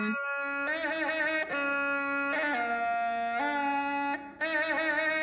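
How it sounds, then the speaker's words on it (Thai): Music from a Thai piphat khrueang ha ensemble: a reedy, sustained melodic line steps between held pitches with smooth bends. It plays clearly and alone, without talk. "อันนี้คือวงปีพัดเครื่องห้านะคะ"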